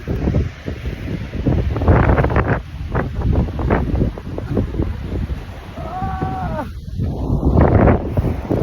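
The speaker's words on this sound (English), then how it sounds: "I'm like right next to the ocean" Ocean waves roll in beside a beach boardwalk, loud and close, heavily buffeted by wind rumbling across the microphone, with a brief squeaky sound near the end.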